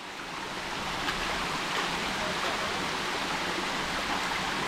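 A hidden waterfall with a fairly low flow gives a steady, broad rushing roar from close by. It stays unbroken throughout, with no clear talk over it.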